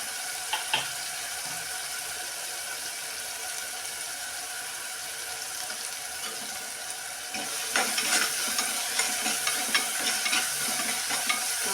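Chopped onions and garlic sautéing in a pan, a steady sizzle with scraping stirs and occasional sharp taps of the utensil that grow louder and more frequent in the second half.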